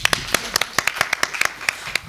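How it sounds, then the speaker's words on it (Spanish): A few audience members at a talk clap in sparse, uneven claps, each hand strike crisp and distinct, close by, with no crowd roar behind them. "Un aplauso."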